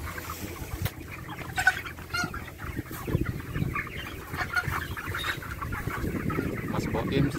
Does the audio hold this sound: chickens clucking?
yes